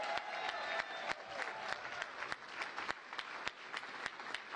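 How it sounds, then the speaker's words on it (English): Steady crowd applause at an election night gathering, fairly faint and distant, with sharp individual claps standing out through the wash. "Give him one more round of applause"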